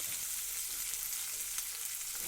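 Beans and eggplant fry in a pan with a steady, soft sizzle while being stirred, the hiss continuous and fairly quiet throughout.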